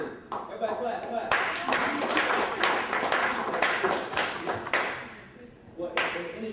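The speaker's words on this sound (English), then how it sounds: "Everybody clap, clap." An audience at a university meeting claps in scattered, uneven bursts that build, thin out, then return briefly, with voices talking over it.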